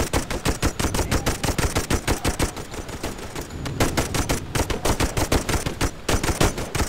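Machine gun fire in the Toy Soldiers World War I game, rapid loud bursts of shots in a dense rattling rhythm with brief gaps, no talk.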